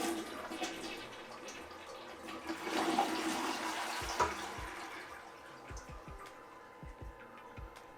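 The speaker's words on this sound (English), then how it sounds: "I'm gonna flush the toilet and show you guys how that trim coat repels the water." A toilet with a trim-coated finish flushes nearby with a rushing swirl of water that swells, peaks, then tapers into gurgles and drips, with no voices.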